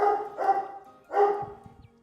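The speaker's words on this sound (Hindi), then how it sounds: "ब्रूनो भौंक रहा है।" A pet dog indoors barks twice in quick succession, then again a moment later. The barks are moderately loud and fairly near, with a quiet household room around them and no speech.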